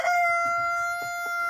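A rooster crows once, close and clear, a bright sustained call that fades at the end, with faint clucking from hens in a dacha yard beneath it.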